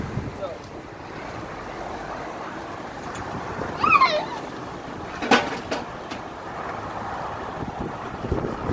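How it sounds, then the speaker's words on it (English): Strong wind gusting outdoors and buffeting the microphone as a steady roar, with a couple of brief louder bumps and faint voices in the background. "There's so much wind that it's blowing everything."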